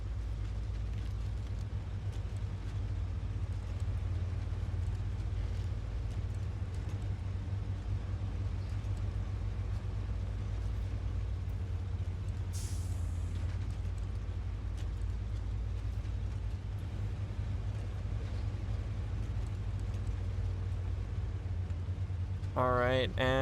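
Western Star truck engine in SnowRunner straining under a heavy load, a steady low diesel rumble droning throughout with a voice talking over it.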